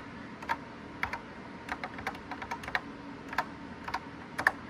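Keys on a NABU computer keyboard clatter as a telnet command is typed, with quick, irregular taps close by over a quiet room hum.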